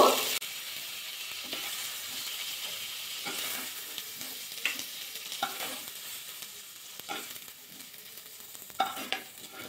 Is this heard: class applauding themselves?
no